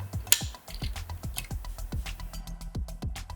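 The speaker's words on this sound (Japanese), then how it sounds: "次にこの両サイドにあるギアを外していきます。" Small plastic gears being pulled off the sides of a PS VR2 headset during a teardown, giving quick rhythmic ratcheting clicks in a steady series of about a dozen, close and crisp in a quiet room.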